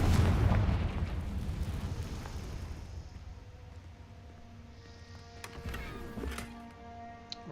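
A Confringo fire spell explodes in the Hogwarts Legacy video game, opening with a loud, heavy boom that rumbles and fades over several seconds, followed by faint chiming game effects.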